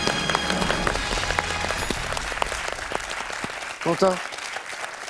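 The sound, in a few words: studio audience applause on a French quiz show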